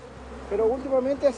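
Close buzzing of honey bees, a few rising and falling drones over a low background hum.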